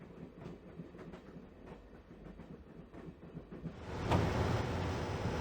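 A train rolls along the tracks in the video game Broken Sword, a steady rhythmic clatter that grows louder and rushes near the end, with no voices.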